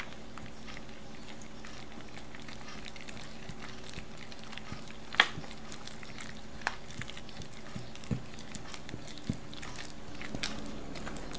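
Stirring and beating plantain bread batter in a bowl, a soft continuous wet scraping with a few sharper clinks of the utensil against the bowl, steady and fairly faint.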